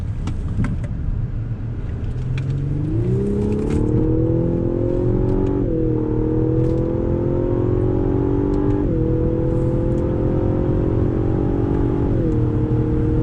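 Engine of a 2019 Lexus LS 500 luxury sedan revving through quick paddle downshifts, a loud continuous drone with pitch rising in steps and dipping briefly at each shift, heard close and alone.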